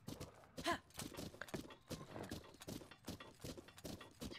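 Horse hooves clip-clop in a steady trotting rhythm as a rider travels across terrain in the video game The Legend of Zelda: Breath of the Wild, quiet and even, with faint game sounds and no talking.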